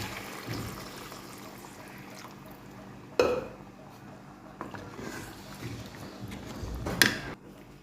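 Water is poured into a pot of aloo chicken gravy, giving sizzling, splashing bursts, one sharp around the middle and another near the end, over a low background hiss. No one speaks.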